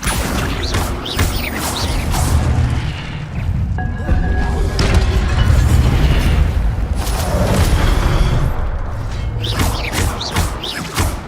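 Spell casting effects in the Hogwarts Legacy video game, a dense run of booming blasts, crashes and thuds with whooshing bursts, loud and continuous with no talk over them.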